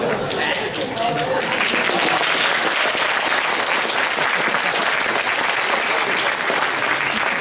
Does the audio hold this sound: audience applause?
yes